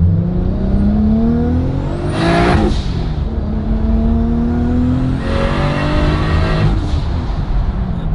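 Supercharged Nissan Skyline R33 making about 1,000 horsepower, revving hard up close in two loud, rising bursts with a high whine over a deep, rumbling engine drone, no talk.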